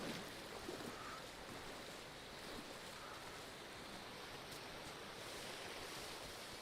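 Water in Metal Gear Solid Delta after the player falls in: a faint, continuous wash of sloshing and surf-like noise, soft and unbroken, with no voices.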